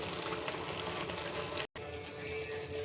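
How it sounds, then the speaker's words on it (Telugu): Maggi noodles boil in water in a pan, giving a soft, steady bubbling hiss that is faint and continuous, broken by a momentary cut. "బాగా వాటర్ అంతా పోయేంత వరకు బాగా ఉడకనిచ్చాలండి"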